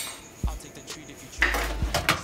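Plantains with salt stirred in a pot for Dominican mangu, heard as several close metallic scrapes and clanks of a utensil against the pot.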